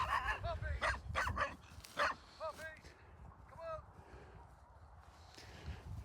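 Several dogs outdoors yip, bark and whimper in short, irregular bursts, some high and whiny, while people talk nearby.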